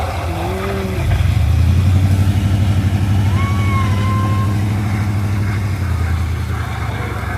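Heavy trucks rumble past on a snowy street, a loud low engine drone that swells and then holds steady, with a brief thin voice or squeal overhead.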